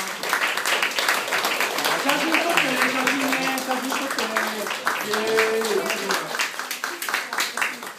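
Audience applause at a Japanese school gathering with the Bangladeshi ambassador: a sustained wash of clapping from many hands, with a nearby voice speaking over it throughout.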